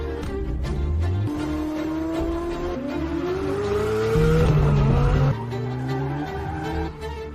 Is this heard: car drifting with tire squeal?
yes